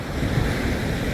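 Ocean surf at a skimboarding beach washes in a loud, continuous rush, with wind buffeting the microphone.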